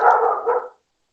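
A single dog bark sounds close and fairly loud, a short muffled woof that stretches briefly and then cuts to silence.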